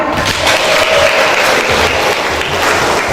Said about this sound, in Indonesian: Mari kita tepuk tangan dulu yang meriah